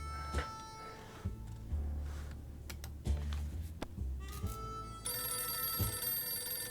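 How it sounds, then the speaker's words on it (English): A telephone rings in the bunker survival video game 60 Seconds, with repeated bursts of electronic ringing over a low droning background, close and fairly loud, interrupted by short clicks. "The phone's ringing."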